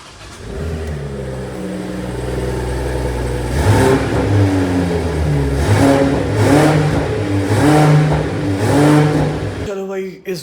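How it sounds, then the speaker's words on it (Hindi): Petrol-engined Toyota Land Cruiser due for servicing starts and revs, its steady idle rising into a series of loud, rhythmic revs close by, ending with an abrupt cutoff. "देखते हैं ऑन होती है कि नहीं। ऑन तो हो ही जाएगी, पेट्रोल इंजन के साथ यही तो फ़ायदा है।"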